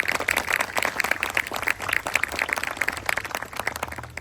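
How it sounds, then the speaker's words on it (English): Audience applause at a school district tiny home ribbon cutting ceremony, steady, moderately dense clapping from a gathered crowd that continues evenly throughout without talk. "Let's give them applause."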